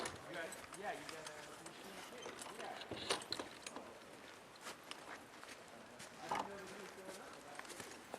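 Two harness horses hitched to a pole for pairs driving walk along, their hooves clip-clopping in irregular steps under frequent nearby talk and rattling harness.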